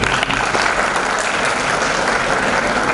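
Audience applause at a university seminar, a continuous dense crowd clapping that fills the whole stretch, loud and even from a large room.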